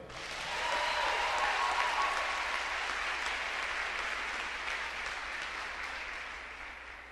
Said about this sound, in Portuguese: Quem está me entendendo pode se aplaudir.